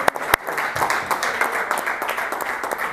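An audience at a cricket club kit distribution ceremony in a restaurant applauds steadily for a few seconds, a dense patter of clapping with a couple of sharp louder claps near the start.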